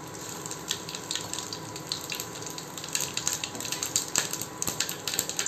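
Mustard seeds and cumin splutter in hot oil in a home kitchen, a steady hissing crackle with a dense patter of small pops, close and continuous, with no one speaking.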